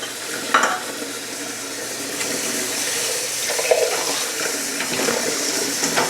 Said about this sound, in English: while I'm bringing this water up to a boil, I'm going to be letting it sterilize my jars